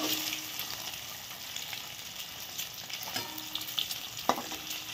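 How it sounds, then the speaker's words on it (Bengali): Eggs frying in a pan with turmeric and salt, stirred with a spatula; steady close sizzle with scraping and clinking stirring strokes, louder clatter near the end. "হলুদ লবণ দিয়ে একটু ডিমগুলো ভালো করে ভেজে নেব"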